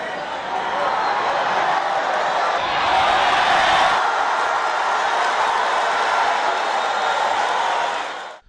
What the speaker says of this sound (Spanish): ganándose por supuesto el aplauso de la afición de los dos bandos